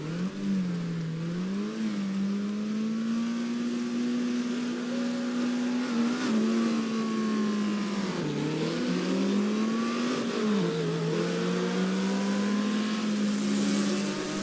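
An Alpine A210 race car lapping the Charade circuit in the French countryside, its engine droning steadily and loudly throughout, pitch dipping and climbing through gear changes and revs.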